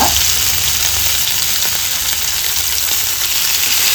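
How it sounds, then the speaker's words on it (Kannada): Marinated fish sizzling and frying in hot oil with curry leaves, a loud, steady crackle filling the whole stretch with no voices over it. "ಕಲಸಿಟ್ಟ ಮೀನನ್ನು ಎಣ್ಣೆ ಬಿಸಿ ಆದಮೇಲೆ ಸೇರಿಸ್ಕೊಳ್ಬೇಕು"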